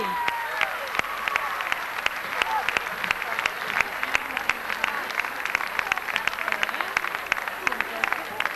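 Audience applause for a pop singer at a television awards event: dense, steady clapping from a large crowd runs throughout, with a voice speaking over it.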